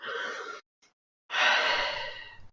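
Two long, breathy exhalations close to the ear, the first lasting about half a second and the second, after a short pause with a faint catch of breath, a longer and fuller sigh, used as a calming breath in a guided emotional release exercise.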